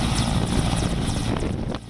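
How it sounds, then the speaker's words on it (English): Several Mi-8 military helicopters fly overhead during a heli drop operation in the 1971 Battle of Sylhet, giving a steady, loud rotor drone with rhythmic chopping and some wind buffeting, and no voices. "10 Mi-8 helicopters were tasked to carry out the heli drop"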